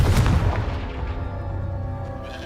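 A Confringo fire spell explodes in Hogwarts Legacy, giving a loud, booming blast with a sharp onset that rolls into a sustained rumbling tail for a couple of seconds, with no talking.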